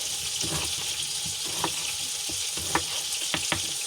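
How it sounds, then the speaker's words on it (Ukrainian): Mushrooms fry in a pan with a steady close crackling sizzle, punctuated by occasional light clinks and stirring taps. "Так, хай смажиться."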